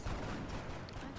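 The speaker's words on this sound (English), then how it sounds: "Couldn't hear you over all the gunfire." Rapid gunfire and weapon bursts from the turn-based strategy game XCOM, played on Impossible Ironman difficulty, form a dense, continuous crackle that is fairly faint throughout the short stretch.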